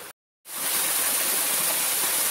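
A waterfall on a wooded hiking trail at Hanover College in Jefferson County, Indiana, roars as a dense, steady hiss that fades in after a brief gap and holds loud and close.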